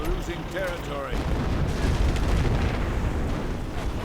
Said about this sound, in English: Artillery in against the German base of Andy.